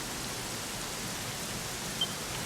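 Rain falls steadily in Dragon Quest XI, a constant even hiss of moderate loudness with no other sounds on top.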